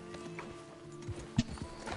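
Rhythmic hoofbeats of a horse clip-clopping over ambient game noise, with a soft whinny and a louder thud near the middle.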